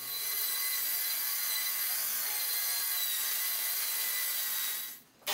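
A radial arm saw cuts through wooden side panels for a vintage shoe shine box, a steady loud whining rasp lasting about five seconds before the blade spins down and the cut ends.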